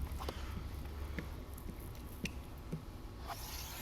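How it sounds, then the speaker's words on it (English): A squeegee works soapy water out from under window tint film on a 2019 BMW X5 front door, giving faint, soft squishy strokes at an uneven rhythm in a quiet space. "Do light squeegee strokes first, and then we'll go over it again with a harder press to get the majority of the soapy water out"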